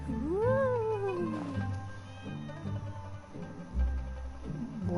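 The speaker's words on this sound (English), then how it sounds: "Why is there a cat?" A cat meows with a rising then falling pitch near the start, loud and close, followed by softer background sounds with no talking.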